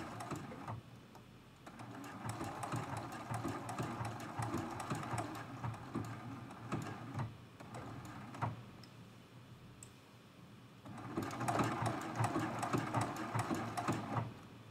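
A sewing machine stitching a quilt block, running in a fast steady chatter of needle clicks close by, with a brief slowdown near the middle before it speeds up again. No one speaks.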